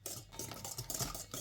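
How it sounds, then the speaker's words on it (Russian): Egg mixture, with melted cooled butter added, stirred in a bowl for a pastry dough, giving soft irregular clinks and scraping of utensil against the bowl, close and fairly quiet with no voices. "И перемешиваем."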